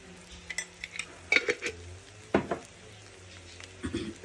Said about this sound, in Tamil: கொஞ்சம் நேரம் இதை வறுப்போம்